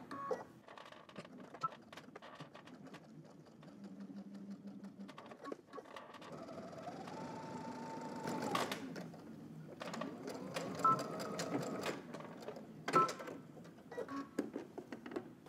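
Sewing machine running bursts of top stitching on denim jeans, a close mechanical whir that starts and stops several times with soft clicks and handling noise between runs.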